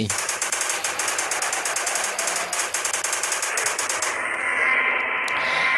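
Rapid machine gun fire from the video game Indian Bike Driving 3D rattles in a dense, steady burst of evenly spaced shots, loud and close, before stopping into a hiss of game noise.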